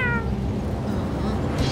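A cartoon cat's meow rises briefly at the start over a low, steady rumbling background, with faint sounds continuing afterward, from the children's cartoon Paw Patrol in Portuguese.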